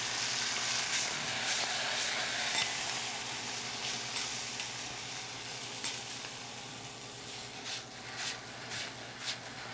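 Garlic, shallots and peppers fry in a pan for a peperonata side dish, giving a steady, close sizzle with occasional stirring scrapes and no talk.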